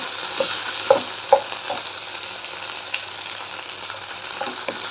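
Okra fries in a pan for a Rayalaseema-style okra chutney, a soft continuous sizzle broken by a few sharp stirring clicks early on, close and without speech.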